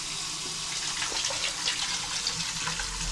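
Shower water runs on a boat in a steady, hissing spray, close and constant throughout, with no voices.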